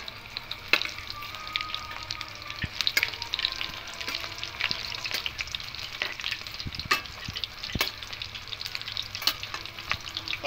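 Fish roe cutlets frying in hot mustard oil after being turned over, a dense crackling sizzle with scattered sharp pops and spatula scrapes, close and steady with no talk.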